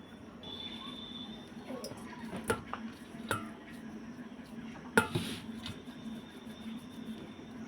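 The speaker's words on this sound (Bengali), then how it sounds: "ছোটো ছোটো করে লেচিগুলো কেটে নেবো।" Nimki dough being cut into small portions on a kitchen surface, heard as a few faint, sharp taps and clicks spaced a second or so apart over a quiet background.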